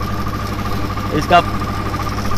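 A tractor-driven automatic mini rice mill running, its engine giving a steady mid-pitched droning hum with a brief mechanical bump, while someone talks over it.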